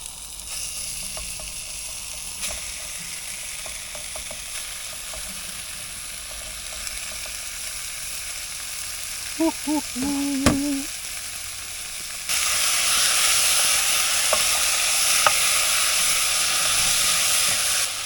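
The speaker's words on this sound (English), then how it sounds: "Wait for the sizzle." A constant hiss of food sizzling in a pot while camping in North Wales, with a brief clink midway and the sizzle growing louder and brighter toward the end.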